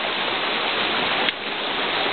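Floodwater rushes down the Appalachian Trail after torrential Sunday rain, a loud, steady broadband roar of churning water that continues unbroken throughout.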